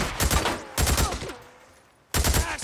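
Bursts of rapid gunfire erupt in the video game Days Gone, two loud volleys separated by a brief lull before a third burst begins, with a shouted voice briefly over the shooting.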